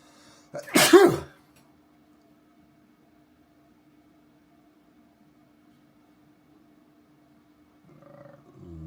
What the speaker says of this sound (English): Oh my gosh, I'm gonna sneeze.